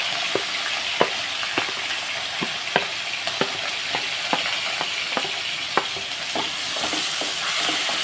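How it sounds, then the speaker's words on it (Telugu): Green chillies and onions fry in oil with a steady, loud sizzle, punctuated by repeated sharp taps and scrapes of a spoon stirring the pan, close and continuous with no voices. "మళ్ళీ ఇంకో రెండు స్పూన్లు ఆయిల్ వేసుకున్నాం ఇదిగోండి ఇప్పుడు మనం పచ్చిమిర్చి ఉల్లిపాయలు"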